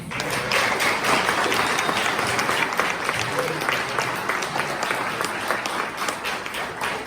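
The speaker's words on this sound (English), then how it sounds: "another round of applause" A room of forum attendees at a Kendall County commissioner candidate event applauds, a sustained wash of clapping from many hands at even loudness with faint voices mixed in.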